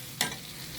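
A spatula gives one quick scrape through sautéed bitter gourd with egg in a pan, over a faint steady sizzle.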